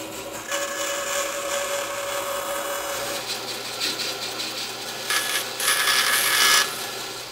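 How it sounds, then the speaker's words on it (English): Steady rasping of a handsaw cutting a small chunk from a Telecaster guitar, continuous strokes close up with a slight whine and no talking. "Now I'm going to saw this little chunk out so I can work on it."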